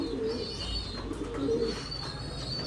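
Pigeons cooing softly, two low throaty coos a second apart over a steady background hum, with faint higher chirps.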